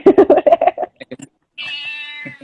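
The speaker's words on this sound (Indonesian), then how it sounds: "tadi saya denger banyak banget tuh background kucing ini" A pet cat meows a few times in the background of a podcast after a quick stretch of speech, one drawn-out, insistent meow standing out close by.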